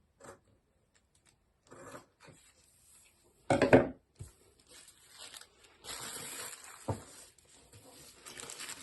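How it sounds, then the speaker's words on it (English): A paper sleeve pattern being cut out, with scattered scraping and rustling sounds, a louder burst of crisp paper cutting midway, then ongoing soft sliding and snipping noises, close and with no talking. "Then I have to cut this one out."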